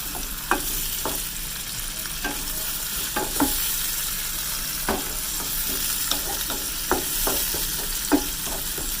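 Two medium onions fry in ghee in a pan, a steady close sizzle broken by repeated clicks and scrapes of stirring, with no speech.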